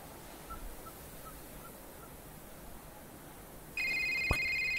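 A cell phone ringtone in the video game A Short Hike cuts in near the end over a faint, quiet ambient bed, ringing as a steady, bright electronic tone that holds until the close.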